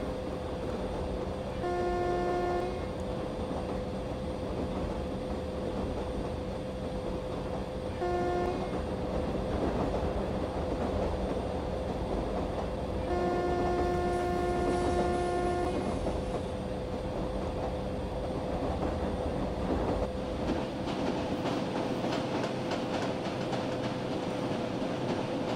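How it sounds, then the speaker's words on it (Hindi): The Karnataka Express passenger train, Bangalore to New Delhi, rumbles steadily along the rails, its horn sounding in several drawn-out blasts, with a constant mechanical hum throughout and no voices. "तो ये कर्नाटका एक्सप्रेस की बहुत ही लंबी जर्नी होगी"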